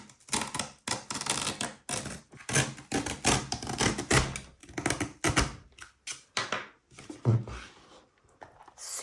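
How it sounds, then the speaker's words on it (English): A craft knife cuts down the spine of a bird book, making a quick series of rhythmic scratchy scraping and tapping strokes, close and fairly quiet, with no talking. "take a craft knife and make a cut right down the front part of the spine here"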